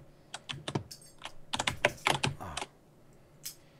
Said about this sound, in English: Your keyboard's loud. It is. It's a mechanical keyboard.